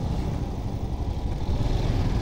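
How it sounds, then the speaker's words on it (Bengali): A Royal Enfield Scram 440 climbing a mountain road, heard as a continuous low engine drone mixed with heavy rumbling wind noise, steady and fairly loud throughout, with no voices. "তারপরে বহু দিন পরে আমি একা বাইক নিয়ে পাহাড়ে উঠছি।"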